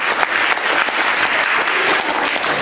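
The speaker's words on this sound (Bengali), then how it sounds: "আমি একটু হাততালি আশা করব।" An audience at an indoor cultural festival claps in steady, dense applause, loud and sustained without a break.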